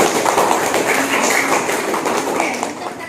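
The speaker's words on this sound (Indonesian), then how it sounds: "Untuk itu kita beri aplaus untuk diri kita" A class claps together in a dense burst of applause, many hands patting in rapid overlapping rhythm that fills the room for a few seconds.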